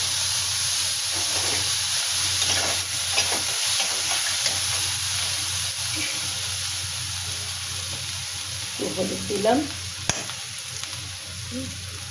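Dry red chilli, nigella seeds and onion frying in hot oil, a strong continuous hiss and crackle with a few stirring scrapes and knocks near the end.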